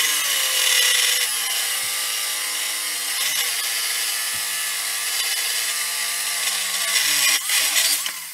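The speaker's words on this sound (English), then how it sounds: "this stuff is not easy to cut" Pattern-welded Damascus steel being cut with a power tool, a continuous loud, high grinding whine that holds steady for several seconds with slight shifts in pitch and load.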